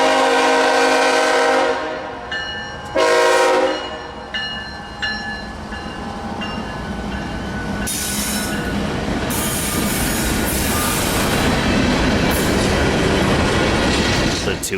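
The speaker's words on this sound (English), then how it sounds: "Train 733, a northbound empty Powder River Basin coal train, meets its counterpart, Train 732, with a diverging approach indication." An empty northbound Powder River Basin coal train rolls past near Atlanta with horn blasts, a steady rumble of wagons and high squealing wheels, loud and close for the full length of the pass.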